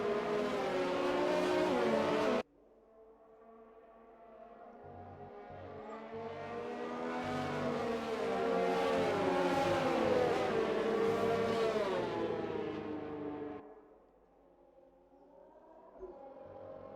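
On-board GP2 race car engine trailing the safety car at the Mexican Grand Prix, a steady droning note that swells and falls through gear changes, with brief bursts of louder revving at the start.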